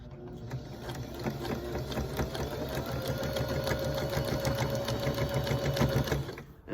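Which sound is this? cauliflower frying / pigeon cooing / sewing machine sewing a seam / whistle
sewing machine sewing a seam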